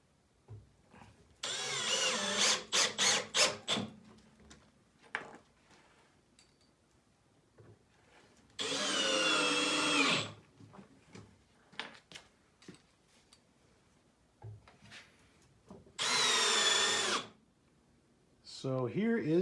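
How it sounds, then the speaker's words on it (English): Power drill driving screws to fasten a grain mill down onto a wooden cabinet top in a home brewery, heard as several loud whirring bursts of a few seconds each, separated by quieter pauses. "Just going to use some screws to attach this down to the top."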